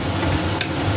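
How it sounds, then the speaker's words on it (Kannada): Masala for sambar fries hard in a pan, a loud, dense, continuous sizzle lasting about a second with no pauses and no voices. "ಸೊ ಎಲ್ಲ ಮಸಾಲೆ ಎಲ್ಲ ಹಾಕ್ಬಿಟ್ಟು ಚೆನ್ನಾಗೆಲ್ಲ ಫ್ರೈ ಮಾಡ್ತಾ ಇದ್ದಾಳೆ"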